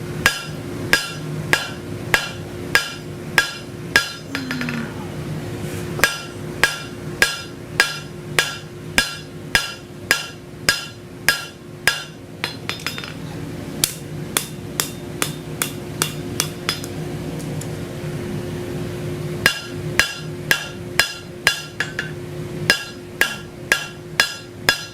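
Hand hammer blows strike a steel bar on an anvil while forging a repeating pattern. Sharp, ringing, evenly spaced strikes come in long runs with brief pauses, close and loud, with no talking.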